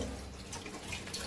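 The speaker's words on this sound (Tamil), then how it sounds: "டாப் இப்படி திறந்துட்டு சரி அப்படி திறந்து கழுவினதான் கொஞ்சம் இந்த சந்துல இருக்கிறதெல்லாம் போகும்" Water runs steadily from an opened tap while something is washed at a sink, a continuous close hiss with no talking.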